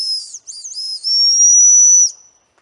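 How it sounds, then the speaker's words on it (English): A small emergency whistle built into a compact multi-tool is blown in a few shrill bursts, ending in one long sustained piercing blast, loud and close. "it's got an emergency whistle"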